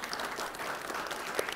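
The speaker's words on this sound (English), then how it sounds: "So let's give them a round of applause." An audience at a business presentation breaks into steady, dense applause that fills the whole short stretch at an even level.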